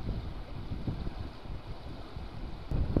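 Wind buffets a microphone outdoors on the ice during mormyshka ice fishing, making a steady, loud low rumble with gusty swells throughout and no voices.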